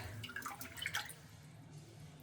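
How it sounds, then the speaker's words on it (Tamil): Water drains from soaked rice being prepared for sweet pongal: a short burst of trickling, dripping splashes over about a second, then a quiet tail with faint room noise. "இப்போ நம்ம அதை நல்லா வடிச்சிட்டு வரலாம் வடிச்சிட்டு வந்து தண்ணியை வந்து வடிச்சிட்டு வந்துடும்"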